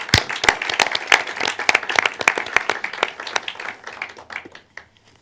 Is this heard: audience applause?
yes